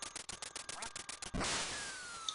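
Rapid repeated duck quacks from the video game Duck Hunt, a quick rhythmic series cut off by a burst of noise, then a fading whistling tone.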